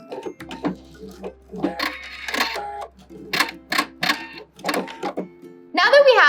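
A sewing machine back stitching bias binding onto a dress neckline, short bursts of stitching alternating with pauses, close and fairly loud, followed by a sharper cutting burst at the end.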